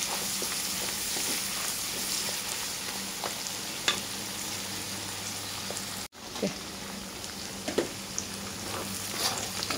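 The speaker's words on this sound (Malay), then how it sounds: "Kita terus goreng-goreng sebentar sehingga sedikit kuning." Sliced lemongrass frying in oil in a pan, a steady close sizzle with crackles and spatters, and occasional light stirring taps over the constant hiss.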